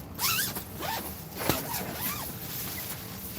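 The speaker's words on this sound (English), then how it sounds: "I have somehow messed up the zipper." A clothing zipper worked back and forth in quick, close strokes, several rising zips in a row with a small rustle, no talking.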